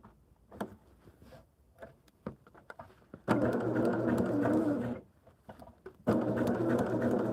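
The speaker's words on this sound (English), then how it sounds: "now we're just going to sew on this line" A sewing machine stitching along a marked line on quilt fabric, starting with scattered soft ticks and taps, then two sustained bursts of close mechanical whirring with a brief pause between.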